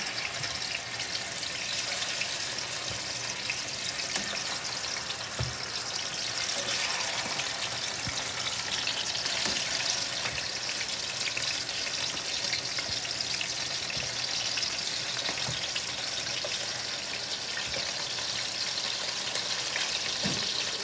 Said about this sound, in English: We're going to fry them about 5 minutes per side